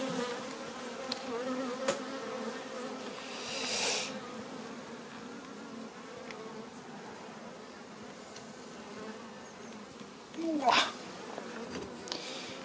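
Honeybees hum at hives of newly made swarms during an inspection with a smoker, a steady low drone throughout, plus a soft rustling puff near the start and another louder burst near the end.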